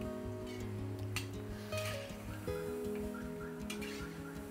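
Small spoonfuls of moong dal bhaji batter fry in oil in a small kadhai over medium gas, giving a steady, soft sizzle that runs beneath quiet background music.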